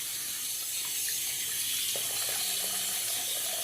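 Water runs from a tap to wet a shaving brush, a soft steady splashing stream, close and fairly quiet, with small spattering changes as the brush moves under it.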